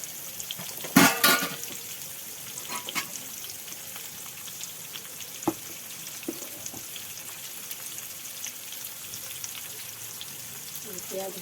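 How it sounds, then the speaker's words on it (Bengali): Onions fry with a little salt in a pan, giving a steady low sizzle. A burst of clattering stirring comes early, then occasional soft scrapes and knocks. "পেঁয়াজ ভাজছি, একটু নুন দিয়ে ভাজলে তাড়াতাড়ি নরম হয়"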